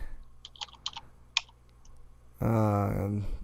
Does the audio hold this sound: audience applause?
no